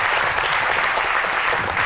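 A French TV studio audience applauds the actors with a short, dense burst of steady clapping.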